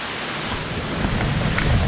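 Steady broadband rush of a waterfall at Desa Jonjo, Kecamatan Parigi, near Makassar, heard close up as a continuous roar with no voices.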